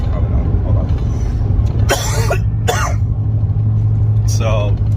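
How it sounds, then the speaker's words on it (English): A couple of sharp coughs break out close by over a low, steady engine rumble while driving home, followed a moment later by another quick cough. "I feel a cough coming on."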